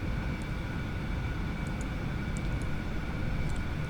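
Aerobask Eclipse 550NG jet on approach to land in X-Plane 11, a constant loud engine and airflow roar with a faint steady whine and a few soft clicks above it.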